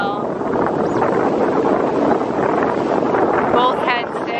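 A sailboat runs under full sail coming into a bay, with steady loud wind rush and water noise throughout, plus a few faint voices in the background.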